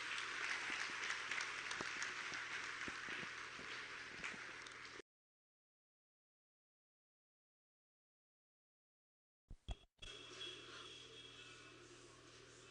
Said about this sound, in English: I would want us to please give a round of applause to the chairman of Ojo Local Government.